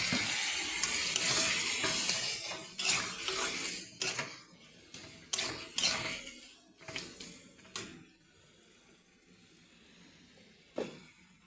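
Tomatoes and a splash of water sizzling in a hot pan while cooking ghugni, a steady loud frying hiss broken by several sharp clanks of a utensil against the pan, fading to quieter sizzle.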